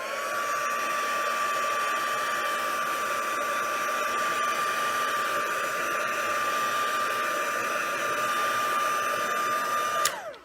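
A heat dryer blows steadily on wet ink over a silver foil sheet, a loud, constant whirring hiss close by that holds level for about ten seconds before abruptly switching off.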